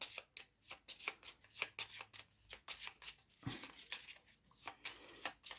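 Playing cards for the Shadowrun Crossfire deck-building board game being shuffled by hand, a quick run of crisp riffling bursts in steady rhythm, close and clear with no talk over them.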